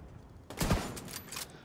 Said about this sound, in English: This sniper rifle is lethal.